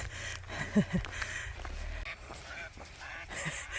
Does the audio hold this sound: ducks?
yes